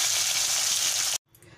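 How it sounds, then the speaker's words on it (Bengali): Tilapia fish pieces frying in hot oil in a pan, a steady dense sizzle that cuts off abruptly near the end, followed by faint quieter sizzling. "এরকম করে এক এক করে প্রতিটা মাছ আমি ভেজে নেব।"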